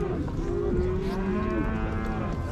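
A cow moos at a livestock market, one long, loud, close low call over a steady crowded background.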